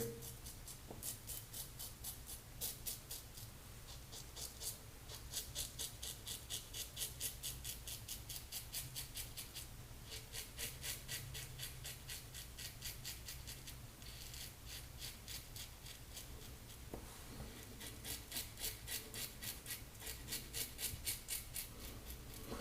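A brass safety razor glides gently over lathered skin in short, light strokes, a soft, close, rhythmic rasping that repeats steadily and stays quiet throughout.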